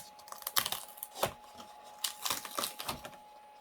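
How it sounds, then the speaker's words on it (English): Cut vinyl being peeled off its backing sheet, with crackly tearing and crinkling bursts in short irregular pulls, close and fairly quiet. "Now let's see if I can peel this off."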